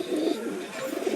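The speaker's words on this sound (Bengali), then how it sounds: "পায়রা দেখে নিন" Pigeon cooing close by, a steady low murmuring coo running through the whole short stretch with a few soft swells, heard alone with no talk.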